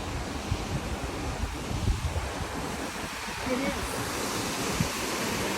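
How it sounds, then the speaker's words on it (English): A tiered waterfall spilling over a series of rock shelves on the Isle of Skye gives a steady, broad rushing roar, with gusts of wind buffeting the microphone throughout. "It's quite a nice waterfall. It's like a series of shelves."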